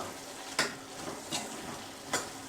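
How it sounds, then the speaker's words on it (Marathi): A spoon scrapes through fenugreek leaf bhaji (methichi bhaji) in a pan, three or four short, crisp strokes over a soft, low sizzle, close and fairly quiet with no talk. "बघा किती छान असं मिक्सिंग झालेलं आहे"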